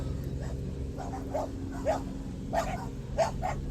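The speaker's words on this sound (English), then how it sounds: "my dogs are losing their minds." Dogs bark and yip repeatedly at a distance, several sharp barks spread irregularly over a low rumbling background.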